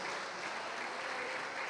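Steady dense applause from a church congregation, a continuous wash of clapping hands with no break.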